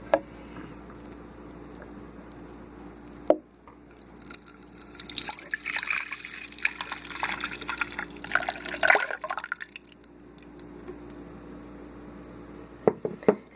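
Strained homemade garbanzo bean milk is poured into a pot in a steady splashing stream for several seconds, framed by a sharp clunk before and a few knocks after, with no talk.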